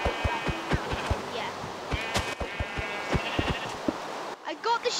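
Repeated Minecraft sheep bleats, a series of short crisp calls spaced through the stretch over faint game ambience, with a player's voice chatting in between.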